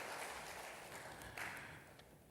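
A church congregation at a Korean Sunday worship service claps together, a dense, steady wash of applause that fades slightly over about two seconds.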